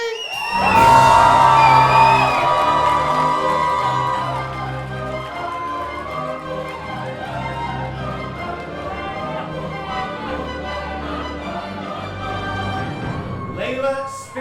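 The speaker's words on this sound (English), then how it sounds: "ladies and gentlemen, scream and shout, it's Layla Sphinx!" Loud drag show crowd at a Newcastle club erupts in whoops, screams and shouting as an act is announced, the roar peaking early and then holding as a sustained, dense cheer.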